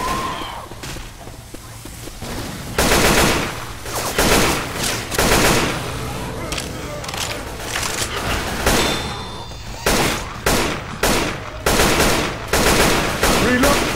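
Rapid automatic gunfire and repeated shots from Left 4 Dead 2 at the Dark Carnival coaster, dense and loud in bursts over the whole stretch, with a few heavier thumps and faint voices underneath.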